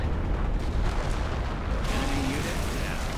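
A heavy explosion destroys a Panzer IV tank in the Company of Heroes World War II strategy game, a deep booming rumble running throughout, with battle noise and a faint voice underneath.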